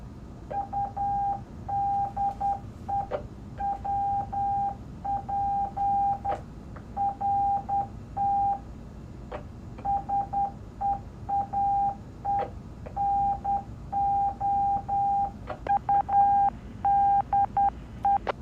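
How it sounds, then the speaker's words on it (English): Morse code sent from a Baofeng handheld radio: a steady single-pitch tone keyed in short and long beeps, grouped in repeated bursts with brief gaps, loud and clear over a low background hiss. "That was actual Morse code being transmitted out of a Baofeng."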